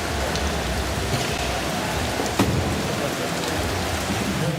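Steady, dense rainfall from a storm hissing across the whole clip at an outdoor concert stage, heavy and constant, with a brief louder spatter midway.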